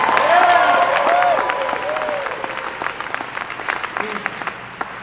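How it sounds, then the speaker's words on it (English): A book festival audience claps and cheers for a guest speaker, loud applause that starts strong and gradually thins into scattered claps, with voices and whoops mixed in. "give him a big round of applause"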